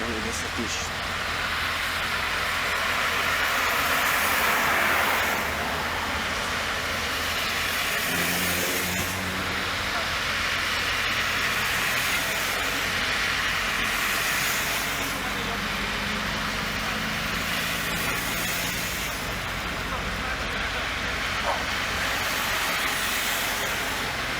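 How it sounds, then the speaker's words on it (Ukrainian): A tram rolls past near a gate in Kharkiv, a continuous loud rumbling and hissing roar of rail traffic lasting throughout, with voices talking underneath. "трамвай, трамвай,"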